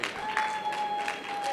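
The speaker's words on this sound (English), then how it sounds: "Let's give him a huge round of applause." Moderate applause from a crowd at a men's breakfast meeting, steady clapping throughout the short stretch with a faint tone running underneath.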